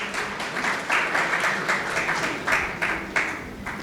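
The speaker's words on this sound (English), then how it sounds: "Please give a round of applause for our first panelist." Steady audience applause greeting a panelist at a panel discussion on AI and language, a dense, continuous clapping crowd filling the room without pause for several seconds.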